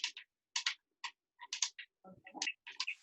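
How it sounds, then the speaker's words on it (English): Computer keyboard typing over an open microphone on a group call: faint, irregular bursts of key clicks with short pauses between them. "Bernard, we can't hear because somebody is typing."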